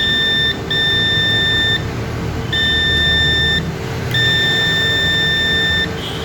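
A multimeter gives three steady, high electronic beeps of about a second each during a laptop motherboard repair, with a constant low electrical hum underneath and no talk.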